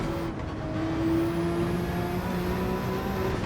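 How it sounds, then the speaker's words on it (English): RSR race car on the Nürburgring in a racing video game, engine droning at high revs with a rising turbocharger whine that spools up steadily over the rumble. "I think it's turbocharger or something. I don't know, you can hear it spooling up right there."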